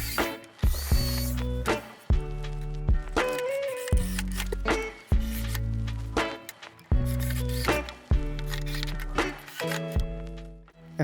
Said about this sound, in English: I like to drill a hole in there first and then pass the screw right through it